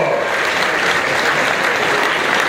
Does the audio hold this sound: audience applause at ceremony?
yes